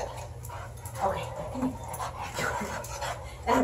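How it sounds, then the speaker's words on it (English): An excited puppy pants and whimpers close by in a steady, breathy rhythm, with small yips breaking through, while a person talks over it. "Obnoxious little puppy, aren't you?"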